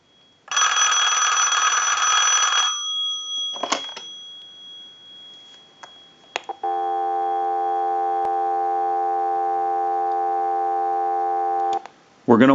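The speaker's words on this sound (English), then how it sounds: "we'll give you some dial tone" A Western Electric Rotary Princess telephone gives one final two-second bell ring, then a few clicks, then a steady, level dial tone that runs about five seconds before cutting off.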